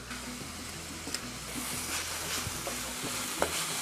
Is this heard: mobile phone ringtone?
no